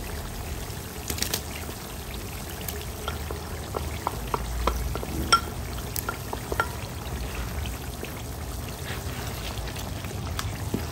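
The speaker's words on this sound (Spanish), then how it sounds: "Ya que está la cebolla así, tenemos que agregar el ajo." Finely chopped garlic fries with onion in a pan: a constant low sizzle dotted with small, crisp pops and ticks, heard close and alone.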